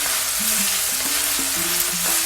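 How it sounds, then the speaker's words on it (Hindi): Minced meat frying with ginger garlic paste in a karahi, giving a steady, close, loud sizzle with stirring clinks throughout and no talking. "हमने भून लिया इसको लहसुन अदरक के पेस्ट से।"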